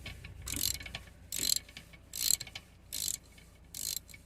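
Five short bursts of ratcheting come from an M8 tool turned by hand on an electric parking brake caliper, each burst a close, crisp clicking with brief pauses between.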